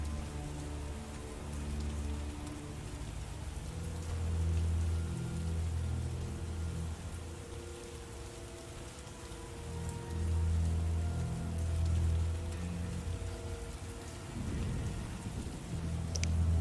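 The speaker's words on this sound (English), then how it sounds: "We could use more rain." Steady rain pours with low rumbles of thunder, a dense wash of noise that swells and eases over a sustained low tonal drone, with no voices.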